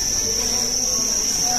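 Crickets chirping inside a breeding shed at a cricket egg farm, a dense, steady high trill from many insects, loud and continuous, with faint background noise.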